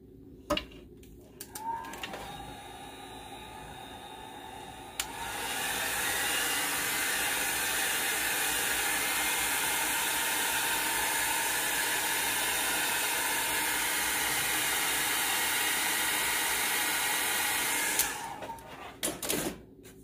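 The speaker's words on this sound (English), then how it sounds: "I have got my Revlon dryer, and I'm going to dry these drops on it." Revlon hair dryer blowing on alcohol ink drops, a steady loud whooshing roar that switches on after a few seconds of handling clicks, runs evenly for about thirteen seconds, then shuts off.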